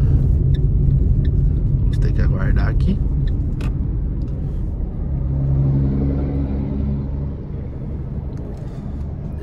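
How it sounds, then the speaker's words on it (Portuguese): Heavy highway traffic with many trucks passing, heard from inside a Renault Kwid on the road: a steady, loud low rumble of engines and tires throughout, while a person talks over it. "Olha o tanto de caminhão, gente."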